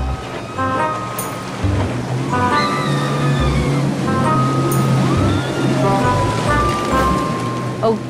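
Sea waves wash steadily onto a beach, a continuous surf hiss that sits underneath people talking throughout.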